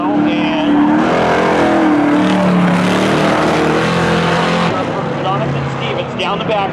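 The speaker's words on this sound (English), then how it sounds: "down the backstretch. Give it to Charlie. Going into 3 and 4. Gets a little loose to the outside" Race cars at a Seekonk Speedway spectator drags event roaring loudly past up close, engines revving and shifting pitch with tire noise, while an announcer calls the action over the top.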